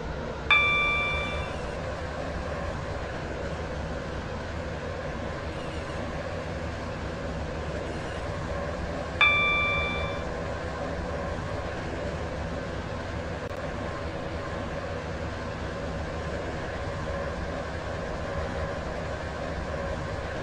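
Roblox Stepford County Railway Class 707 train on a Stepford Connect service, a steady rumbling ride with two brief chime-like dings, one near the start and one about nine seconds in.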